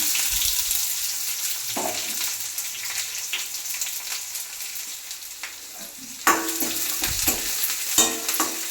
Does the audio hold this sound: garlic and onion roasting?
yes